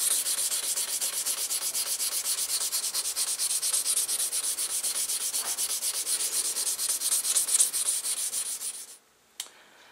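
A leather-tipped stick rubs briskly back and forth across a hand-sanded knife blade, a close, even, rapid scraping that runs steadily for about nine seconds, then stops, followed by one faint tap.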